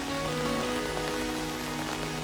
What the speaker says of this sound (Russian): дожди, дожди.